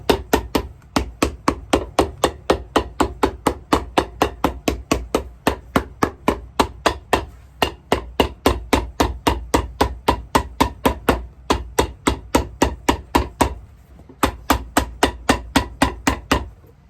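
A shoe being hammered during shoe repair, with loud, close, sharp strikes in a fast steady rhythm and only a couple of brief pauses.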